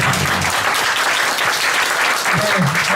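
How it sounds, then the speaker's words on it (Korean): Loud, sustained applause from a lecture audience thanking the speaker after a special talk, a dense continuous roar of clapping close up, with faint voices underneath. "큰 박수 부탁드리겠습니다."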